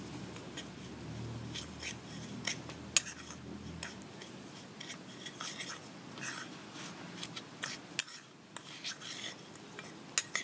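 Biscuit, sugar and peanut butter being mixed by hand in a bowl, with repeated scraping and clinking of a utensil in an uneven rhythm, close and moderately quiet.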